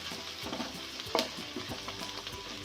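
A soft, steady sizzle of ginger-garlic paste frying in a pan, with gentle scraping and stirring taps throughout, quiet and close.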